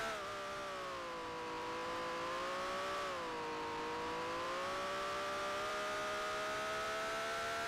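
A 1965 Formula One car engine in the racing game Grand Prix Legends drones steadily and loudly at high revs, its pitch dipping slightly and then climbing again, with no talk over it.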